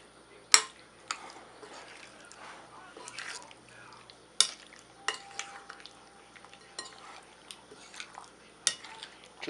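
A buttermilk ranch dressing marinade stirred in a bowl for bacon-wrapped chicken skewers, with sparse utensil clinks and scrapes against the dish over a quiet background.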